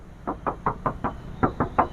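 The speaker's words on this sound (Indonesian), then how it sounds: "Mau bodinya coba kita ketokin." Knuckles rap the metal body panel of a used car in a showroom, about eight firm knocks in a quick, steady rhythm, close and clear, with no talk over them.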